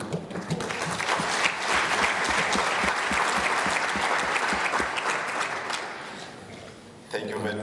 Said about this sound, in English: my job is just to thank the young parliamentarians and applaud.